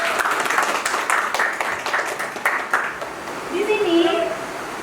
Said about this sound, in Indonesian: Mari kita tepuk tangan dulu semuanya.